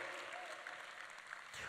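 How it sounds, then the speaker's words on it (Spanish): Congregation applause fills a church during a pastor's sermon, a dense, steady patter of many hands clapping at once, fairly quiet and somewhat distant, with no voices over it. "Un aplauso a ellos también, vamos, ese aplauso."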